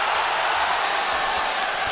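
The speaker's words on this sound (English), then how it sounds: "The crowd is behind Golovkin." Boxing arena crowd at a Golovkin versus Derevyanchenko fight, a steady roaring wash of cheering that fills the whole stretch at constant loudness, with no clear voice above it.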